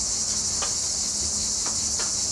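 Crickets chirp in a steady, dense high-pitched drone in Tilakenar forest in northern Iran, continuous and fairly close, with a few faint clicks and no talking.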